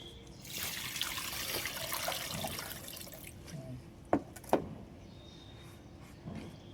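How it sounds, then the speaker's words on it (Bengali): Water trickles and splashes softly as it is poured over a freshly planted water lily tuber, a steady quiet flow followed by a couple of sharp drips. "এবার এর উপরে জল দিয়ে"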